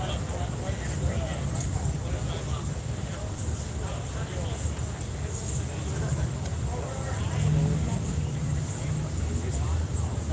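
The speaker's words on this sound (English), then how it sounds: "Got some big engines in their bikes." Big motorcycle engines of 128 and 135 cubic inches rumble low and steadily at the Sturgis Rally, blended with outdoor crowd noise and voices.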